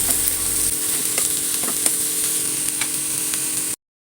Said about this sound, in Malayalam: അതെല്ലാം ഒന്ന് വഴറ്റിയെടുക്കാം ബട്ടറിലൊന്ന് സോട്ട് ചെയ്ത് വരുമ്പം